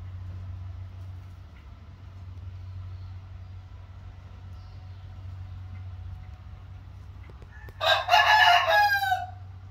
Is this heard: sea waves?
no